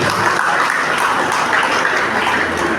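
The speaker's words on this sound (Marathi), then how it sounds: "त्यांच्यासाठी आपण जोरदार टाळ्या वाजवूया" A crowd claps loudly and steadily, a dense wash of applause that carries on evenly throughout.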